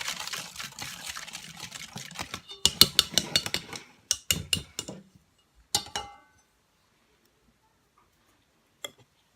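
Sugar, salt, an egg and yeast are stirred together in a bowl, giving close, irregular clinks and taps of a utensil against the bowl that thin out into scattered knocks and then near silence.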